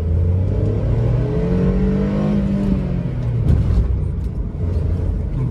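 A VW Polo 1.2 petrol Highline accelerates hard, its engine a loud, close, continuous drone that rises in pitch through the revs, with no talking over it.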